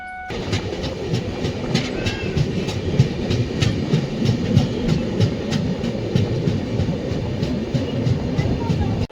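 A Solapur to Mumbai passenger train rolls along the rails with continuous rumbling and a regular clickety-clack rhythm, loud and close throughout.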